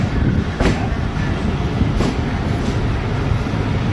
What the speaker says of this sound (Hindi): लाहौर कैंट रेलवे स्टेशन से डिपार्चर हो रहा है टू डाउन का